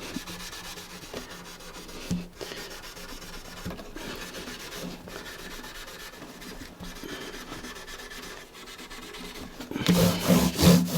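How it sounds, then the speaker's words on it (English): Scraper rubbing and scraping across the frets of a guitar fretboard to loosen grime, a steady close scratchy rasp with small clicks, growing louder and harsher near the end. "just going to go over each fret again to try and get rid of any bits of stuff that I've now managed to loosen using the scraper"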